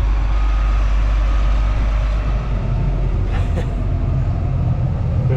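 A combine harvester runs steadily on a short test drive during wheat harvest, its deep engine rumble and drivetrain drone loud and close, with no talking.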